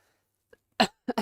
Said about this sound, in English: I really wish that cough would stop.